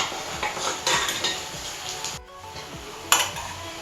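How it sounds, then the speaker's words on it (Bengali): Onion, garlic and ginger fry in a pan for mango fish pickle, a soft sizzle running beneath clinks and scrapes of a utensil against the pan, with one sharper knock near the end. "পেঁয়াজ আদা রসুনের কুচানোগুলো ওগুলো ভাজা ভাজা হয়ে গেছে"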